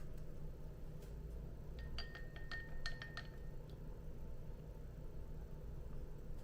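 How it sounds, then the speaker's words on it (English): A spoon stirring freshly brewed Hario V60 pour-over of Kenyan Murang'a AA coffee: a quick run of light, bright clinks against the vessel lasting about a second, quiet and close over faint room hiss, with no talking. "Let's stir our coffee."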